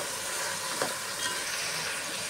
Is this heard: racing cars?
no